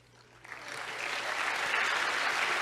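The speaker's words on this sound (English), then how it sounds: "I'll clap for the audience." Audience applause swells in from quiet, building over a couple of seconds into a dense, steady round of clapping from a sizable crowd.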